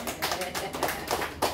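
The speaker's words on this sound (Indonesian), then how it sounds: "beri tepuk tangan untuk ibu sekalian" Short burst of hand clapping from a small group of seated participants at a community meeting, several quick uneven claps close by, with talk mixed in.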